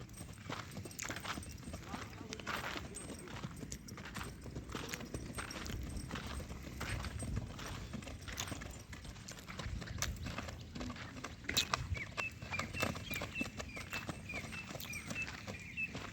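Horse hooves clip-clop steadily through a riding outing, a continuous walking rhythm close by, with some faint voices and outdoor noise mixed underneath.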